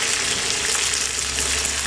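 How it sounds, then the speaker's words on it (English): Chicken pieces fry with onions in a pan, giving a steady, close hiss of sizzling oil that stays even and unbroken. "Fry all sides, but be careful about the onions."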